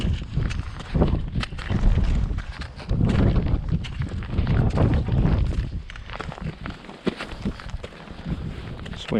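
Strong gusting wind buffeting the microphone near the icy summit of Beinn Narnain, a 927 m mountain, loud rumbling surges that rise and fall continuously with no talk.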